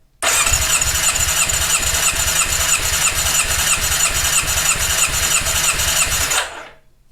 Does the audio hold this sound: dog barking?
no